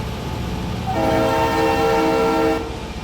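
A freight train hauled by three GP38 locomotives and an SD90 Mac in Railroader sounds a loud, sustained multi-tone horn blast over a steady rumbling rail drone, close by.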